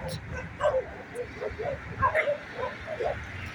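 A small dog yips and barks in short bursts amid the background noise of a street in Alexandria, near but fairly faint, with a person's voice talking over it.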